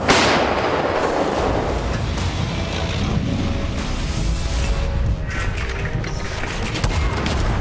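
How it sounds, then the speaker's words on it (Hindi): K9 Vajra self-propelled howitzer firing artillery shells at the Mahajan field firing range in the Rajasthan desert, a continuous thunder of loud booms and rumbling reverberation with scattered sharp cracks. "एक एक गोले की गर्जना से रेगिस्तान में बवंडर उठ रहा है"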